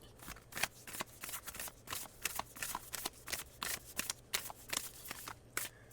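A deck of tarot cards is shuffled up close in quick repeated riffles, a rhythmic string of crisp papery flutters and slaps with a faint steady hum underneath.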